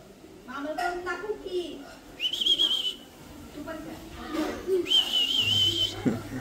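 Someone tries to whistle and manages two thin, sustained whistle tones of about a second each, with nearby voices talking before and between them.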